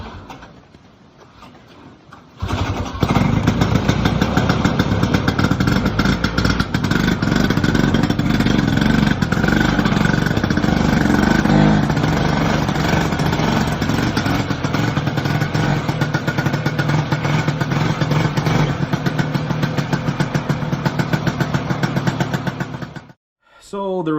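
A 1972 Ski-Doo Red Devil LTD snowmobile engine starts up and runs loud and close with a buzzy two-stroke rattle as the sled is driven into a trailer, holding steady before cutting off abruptly near the end.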